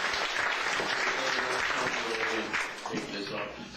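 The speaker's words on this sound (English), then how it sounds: "let's hear for Lenny, Chris, put your hands together for everybody." An audience at a seniors' comedy show applauds, a dense, sustained wash of clapping that fades slightly toward the end, with some voices underneath.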